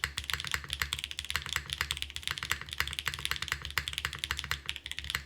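Steady, fast typing on a mechanical keyboard, close up, with dense clacky keystrokes and a deep, thocky undertone; no voices.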